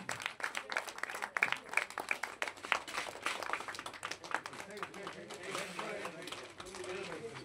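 Audience clapping at a film teaser launch event, a dense crowd applause of rapid overlapping claps heard at a distance and sustained throughout, with a voice talking over it.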